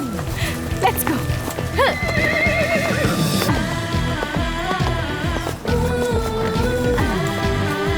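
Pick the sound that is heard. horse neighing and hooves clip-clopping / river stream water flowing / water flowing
horse neighing and hooves clip-clopping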